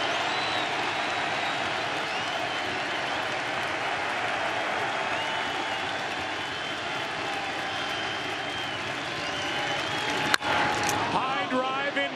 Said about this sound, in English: This crowd is revved up.